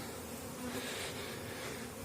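A steady buzzing of many bees in flight, a soft continuous hum with no voices, fairly close but low in level.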